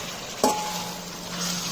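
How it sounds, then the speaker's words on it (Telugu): Chicken stirred and frying in a large kadai with softened tomato, a steady sizzle throughout with one sharp spoon or metal clatter near the start, close and moderately loud with no talking. "ఇప్పుడు నేను చికెన్ వేసుకుంటున్నాను. దీన్ని ఒక 2 మినిట్స్ మిక్స్ చేసుకుందాం."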